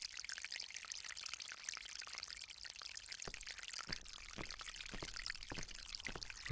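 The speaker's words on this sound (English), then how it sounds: "This fountain makes a very relaxing sound." Water splashing and pouring in a garden fountain within the video game Agatha Christie: The ABC Murders, a continuous soft trickling stream with scattered drips, fairly quiet and uninterrupted by voices.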